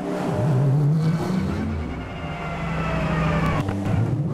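Mercedes GT race car engine at the 2018 Nürburgring 24-hour race, a loud continuous drone with shifting pitch as the car arrives in the pit lane, with no talk over it.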